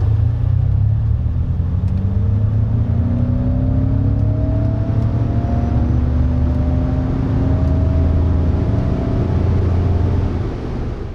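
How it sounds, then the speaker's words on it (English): A synthetic hum with layered tones rises and falls in pitch over a steady low rumble, a 2022 Ford F-150 Lightning electric truck's artificial propulsion sound accelerating and easing off. "Take a listen to the propulsion sound."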